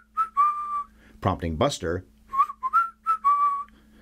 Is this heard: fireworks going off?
no